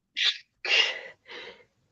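Three sneezes in quick succession, the first sharp and short, the second longest and loudest, the third a little softer, each close and clear against silence.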